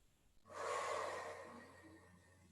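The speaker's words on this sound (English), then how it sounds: "Take a deep breath in." A slow, deep inhale through the nose, close and soft, rising smoothly and tapering off over about two seconds during a breathwork and mobility session.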